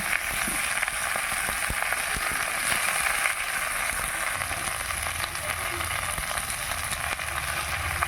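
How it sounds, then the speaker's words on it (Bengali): Vegetables for a neem-leaf curry sizzle and fry in hot oil, a steady crackling hiss that carries on throughout with occasional light stirring clicks. "এবার আমি সবজিগুলো দিয়ে দিলাম তেলের উপরে এই সবজিগুলো এবার আমি ভালো করে ভেজে নেব"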